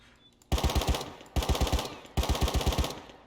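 Rapid automatic fire from the LR rifle in the survival game Rust, three loud bursts of about five to six shots each with short gaps between them, close and punchy with no talk.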